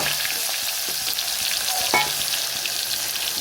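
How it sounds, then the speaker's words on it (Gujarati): Cumin seeds spluttering in hot oil in a home kitchen, a steady close sizzle with one sharper crackle partway through and no voices. "જીરું તતરી ગયું છે."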